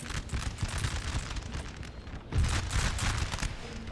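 Musket volleys crackle from massed line infantry in the Napoleon: Total War battle game, dense overlapping shots rolling on continuously with a louder burst about midway, no talk over it.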